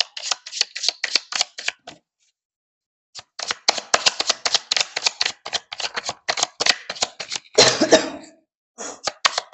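Someone coughs close up in a rapid series of short, harsh bursts, with a brief pause and then another run of hacking.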